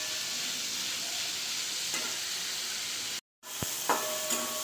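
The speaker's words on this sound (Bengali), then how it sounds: "এই সবজিগুলোকেও আমি ওইভাবে ভেজে নেব" Mixed vegetables for a Bengali bitter gourd chorchori fry in a pan with turmeric powder, giving a steady, soft sizzle that cuts out briefly near the end, followed by a few faint stirring clicks.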